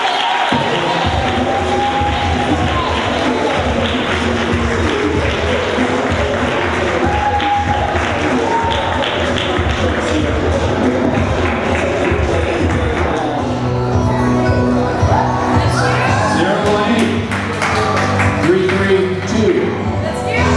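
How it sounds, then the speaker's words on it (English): A crowd at a venue Q&A gives a round of applause for two gentlemen, dense continuous clapping mixed with cheering and shouts, loud and sustained, with voices talking beneath it. "Let's give another round of applause to the gentlemen."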